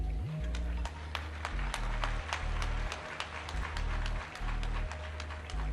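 An audience at a student scholarship program ceremony claps in a steady rhythmic beat, sharp hand claps repeating evenly over a low droning background hum.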